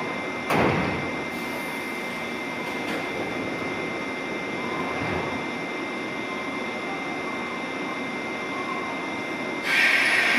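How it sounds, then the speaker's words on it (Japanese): Doors of a JR 201 series train, set ND610, on the Yamatoji Line at JR Namba station: a sharp thud opens the clip, a steady platform and motor hum follows, and a second door clunk comes near the end. "ドアが閉まります。"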